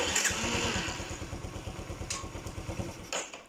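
Yamaha Spark Nano motorcycle engine with a freshly replaced carburetor, revving close by with a rapid, even putter that climbs then settles, short and loud with a few metallic clicks.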